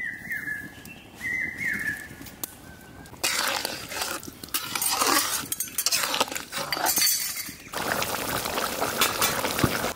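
Water is poured into a cooking pot of chicken for Kabli chicken rice in a village kitchen, a loud splashing rush in several bursts, with light clinks and faint birdsong between them.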